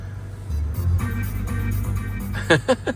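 A Toyota truck engine with a 5-speed manual turns over and settles into a steady, low idling rumble, with a brief voice near the end.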